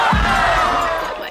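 A loud, dense crowd roars and cheers at a university homecoming party where people crowd surf, heard close and continuous as a wall of noise that fades slightly at the end.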